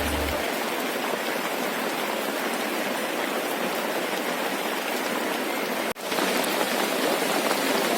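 Steady, heavy rain pours down at the Gunung Malang hot spring baths in Tenjolaya, Bogor, a dense continuous hiss with a brief dip near the end and no talking.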